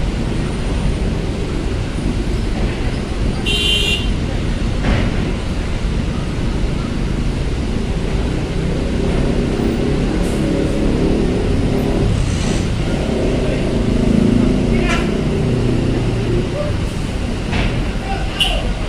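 Private cars queue and move in heavy traffic at Bakauheni port at night, with a loud, constant rumble of engines and passing vehicles and occasional revving bursts, while someone talks over it throughout.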